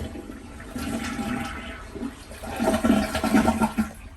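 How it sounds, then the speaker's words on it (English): A household toilet flushes up close, a loud rushing and gurgling of water that swells and churns for several seconds with no talk. "Then I'm just going to flush my toilet."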